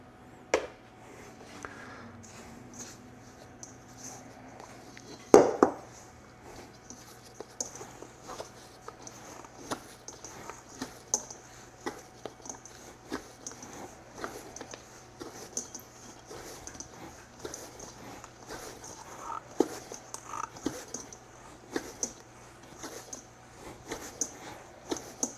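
Sourdough dough, with salt mixed in, is worked by hand in soft, sticky, irregular squishing pats repeating close by, with one louder knock early on.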